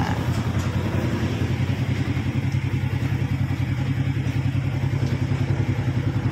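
A fuel-injected motorcycle engine idles steadily after injector cleaning, a low, even, continuous putter with a faint voice in the background.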